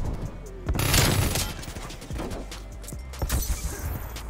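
Shotgun blasts in Call of Duty come as a few sharp bursts spaced out over a few seconds, with gunfire and game action in the background.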